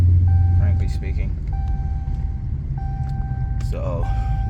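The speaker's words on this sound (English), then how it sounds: "that beeping is just my seatbelt" A 2012 Dodge Charger SRT8's seatbelt warning chime repeats in evenly spaced beeps over low engine rumble, with someone talking briefly in between.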